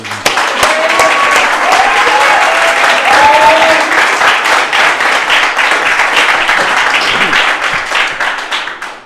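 A school audience at an 8th grade speech event claps to welcome a speaker. The dense applause from many hands is loud and sustained, then fades slightly toward the end, with a few faint voices mixed in.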